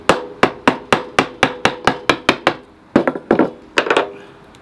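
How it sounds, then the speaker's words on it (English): A chisel is struck again and again against a chunk of brown oak, giving a close, loud series of sharp wooden knocks. The blows come evenly at first, then pause and return as quicker, uneven hits. "use a chisel to break off a little piece of brown oak from this chunk"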